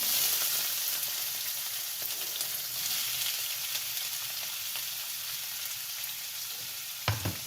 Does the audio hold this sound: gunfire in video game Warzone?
no